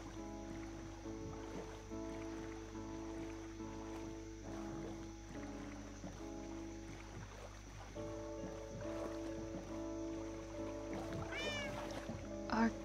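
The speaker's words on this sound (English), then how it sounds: "Our cat called for us," Cat meowing in the Minecraft video game, several short calls over a steady background of game sounds and flowing water, fairly faint, with a brighter sweep near the end.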